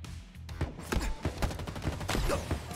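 Rapid gunfire in the video game Halo Infinite, a dense burst of sharp shots in quick succession over a few seconds, loud and close with no talk.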